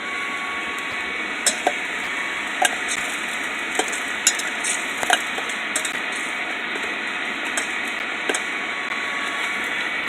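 Eggs fry steadily in oil over a DIY coal forge, a continuous bright sizzle with scattered crackles and pops throughout, close and fairly loud.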